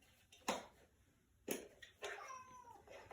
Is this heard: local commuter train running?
no